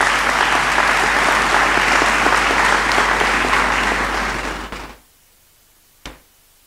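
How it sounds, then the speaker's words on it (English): Sustained applause from a large audience fills a university congregation ceremony in a great hall, steady and loud before fading out, followed by a brief single knock or thud in the quiet. "I believe he deserves another round of applause."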